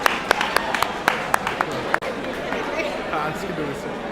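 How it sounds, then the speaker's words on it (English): An audience at a community unity iftar gathering in Minnesota claps for a state representative, scattered sharp claps at first that merge into a broad, sustained wash of applause and crowd chatter. "A round of applause, please."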